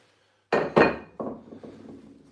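A wheel is fitted in place of the disc on a watch case lapping machine: two sharp metallic clanks close together, then a softer knock and a few fading rattles, close by and alone.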